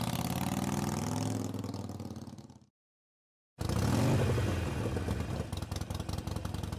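A Halloween Reaper figure's motorcycle engine revs loudly, cuts to silence for about a second, then roars back up and keeps running.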